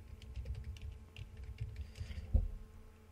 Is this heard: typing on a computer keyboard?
yes